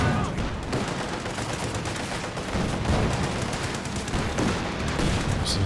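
Dense machine gun fire and battle noise from a Company of Heroes 2 match, steady and continuous with scattered shots over a rumbling backdrop, no voices.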